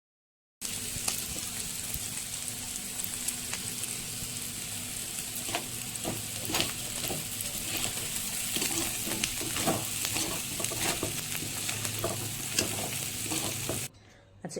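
Rice frying in oil and ghee for pulao, a continuous dense sizzle with scattered crackles and the scrape of stirring. It stays close and even for about thirteen seconds, then cuts off abruptly.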